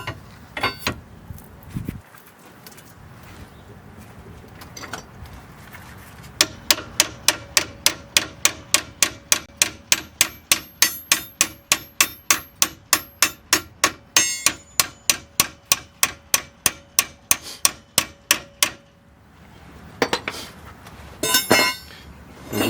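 A hammer taps a Chrysler 200 lateral arm in a long run of sharp metallic clinks at a steady quick rhythm, preceded by a few scattered knocks and followed by a brief cluster of hits.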